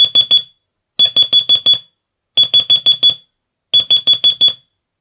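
The Morse code signal for the digit five, five short dots, is sent as a clean high-pitched electronic beep, repeated in four quick bursts separated by short pauses.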